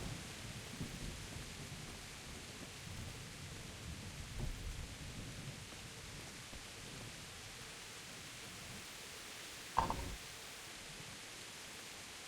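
Rain falls in a video game as a soft, constant hiss with low rumbling. It stays faint throughout, and one brief crackle stands out near the end.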